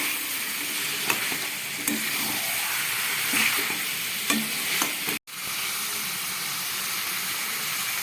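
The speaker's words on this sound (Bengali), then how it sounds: "সমস্ত মশলা দিয়ে খুব ভালো করে কষাচ্ছি" Chicken curry masala with turmeric and other spices stir-fries in a pan, giving a steady close sizzle broken by repeated scraping strokes of a spatula, with one brief dropout midway.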